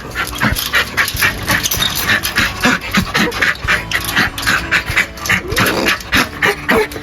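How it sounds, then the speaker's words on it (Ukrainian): Dogs pant rapidly and continuously close by, with a few whimpers mixed into busy background noise. "Зараз буду випускати собачок."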